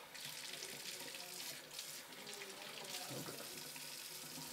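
Water runs steadily from a tap into a sink, a continuous rushing splash heard up close without a break.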